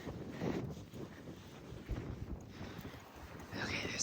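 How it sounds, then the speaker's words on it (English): Wind buffeting the microphone at night at Lost Dutchman Campground in Arizona: a steady low rumble of gusts that swells and eases throughout, with no other sounds standing out. "And it's windy."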